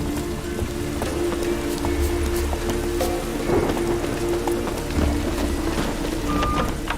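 Steady rain pours down in The Witcher 3, a dense broadband hiss with scattered drop patter and low rumbling underneath, constant and close throughout with no break.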